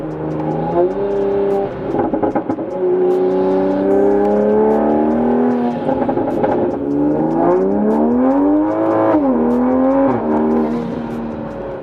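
A Toyota A90 Supra accelerates hard with a loud, close engine note that climbs through the revs, drops briefly at gear changes, and rises again in a strong continuous pull.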